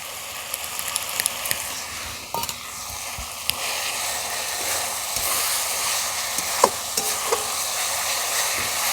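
Coriander and cumin paste hisses in hot oil for a jackfruit and prawn curry, a dense constant sizzle with occasional stirring clicks and scrapes, close and without talk.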